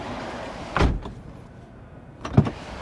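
Powered side door of a Rivian commercial delivery van (500) operating in two short motorized bursts, each ending in a firm mechanical thunk, separated by a quiet pause.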